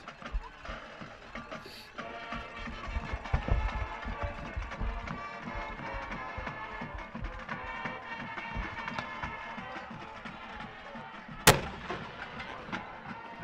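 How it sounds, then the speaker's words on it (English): Fireworks going off at a Northview High School football game, heard as a dense rumble of crackling bursts over crowd noise, with one sharp, loud pop near the end. "Fireworks going off here at Northview High School"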